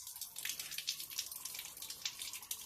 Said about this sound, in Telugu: ట్యాప్ ఆఫ్ చేయి,